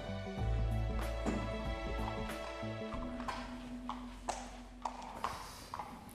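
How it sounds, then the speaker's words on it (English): Dennis, a handsome horse with a sore back, shifts about during a vet check, giving scattered hoof clops and taps against a steady tonal hum, with a few sharper knocks toward the end. "He's a very handsome horse, isn't he?"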